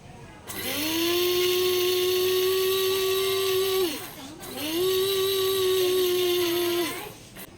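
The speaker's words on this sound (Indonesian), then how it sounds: "Jadi harus kita mixer, kita giling dulu seperti ini, kasih halus" An electric mixer grinds sugar in two bursts of high, whining motor noise. Each burst revs up, holds steady for a few seconds and then winds down, with a short pause between them.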